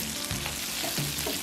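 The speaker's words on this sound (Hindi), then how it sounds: "तड़का हमारा रेडी हो गया है" Steady, dense sizzling of spices and curry leaves frying in hot oil on an induction cooktop for khandvi tempering, with faint stirring scrapes, close up and without talk.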